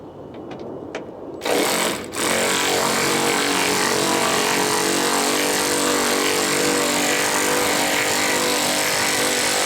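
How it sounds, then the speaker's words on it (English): A cordless 3/8-inch battery-operated ratchet whirs loudly and steadily after a few short clicks, running on for several seconds near and alone, during work on a 1999 Subaru Legacy. "it's a 3/8 battery operated ratchet"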